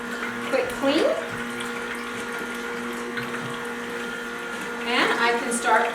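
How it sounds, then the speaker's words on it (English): Juice pours continuously from the open spout of a running juicer, a steady liquid trickle under a constant motor hum, with a few louder clatters near the start and end. "open up the spout here so it can just be continually pouring the juice out"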